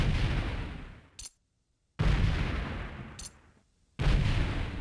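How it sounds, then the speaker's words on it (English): Enemy gunfire in a video game, three heavy booming shots about two seconds apart, each decaying with a short echoing tail, each tail followed by a brief metallic click before near silence. "they're shooting at me at this point"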